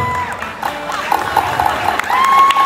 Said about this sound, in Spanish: Un aplauso para ellos, por favor, Luis Fernando.